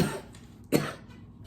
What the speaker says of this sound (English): Sorry, I do still have a little bit of a cough.